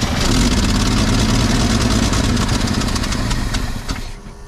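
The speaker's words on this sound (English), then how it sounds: "I'm going to try cranking" A 1955 Chevy 6100 truck engine cranking and turning over, a loud, dense, continuous rumble that stays close for about four seconds before cutting off near the end.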